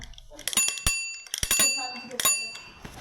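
A bicycle bell rings in a few bright, quick bursts, mixed with clattering handling noises close by.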